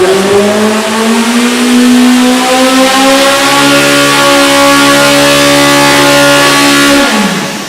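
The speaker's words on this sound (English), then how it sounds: "this is the D-stroked motor, ready to go. We're pulling it. We're getting RPM" An EMPI D-stroke (62) VW engine revs hard on a dyno pull at the EMPI Engine Battle 2024, its loud buzzing tone climbing steadily for about seven seconds before dropping off abruptly.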